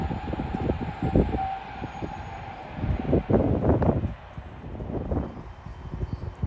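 An Avanti West Coast Class 390 Pendolino, unit 390-125, passes through Watford Junction with a close, gusty rush of wheels and wind. Sharp rail clatters burst out around the middle, over a faint steady whine.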